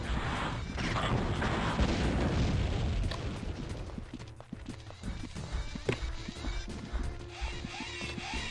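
Homing missiles explode in the 1996 game Terminator SkyNET: a heavy blast rumbles loudly at first, then fades into a run of sharp crashes, clanks and smaller impacts.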